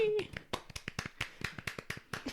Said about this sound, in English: Our little claps